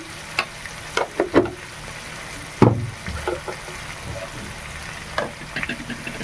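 Potato and pointed gourd frying in a pan with spices, including turmeric, salt and ground ginger, cumin, garlic and onion paste, with scattered stirring scrapes and clatters over a soft, steady sizzle.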